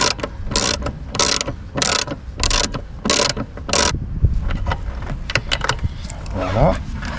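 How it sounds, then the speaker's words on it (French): Ratchet wrench tightening the two expansion tank screws on a Renault Kangoo, heard as about six loud, evenly spaced bursts of rapid clicking, followed by quieter tool handling and faint voices. "Alors, on va revisser les deux vis"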